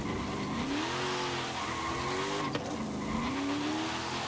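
A car launches and accelerates hard in the Forza Horizon 5 racing game, its engine note rising in steady sweeps with gear changes and a brief tire chirp near the middle, loud and continuous throughout.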